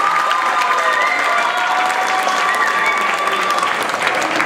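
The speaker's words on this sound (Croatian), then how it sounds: "Zaplješimo stoga svima koji su danas ovdje na ovom velikom festivalu." An audience applauds at a children's music festival, a dense, even wash of many hands clapping continuously at steady loudness, with faint cheering mixed in.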